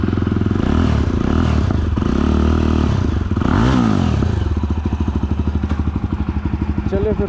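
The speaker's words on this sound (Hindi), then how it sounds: "ओके, तो आपको एग्जॉस्ट सुना देते हैं एक बार फिर।" A Jawa Perak motorcycle, which has a throttle wire issue, runs close by with a loud, steady thumping exhaust that rises in a brief rev midway and then settles back to a pulsing idle.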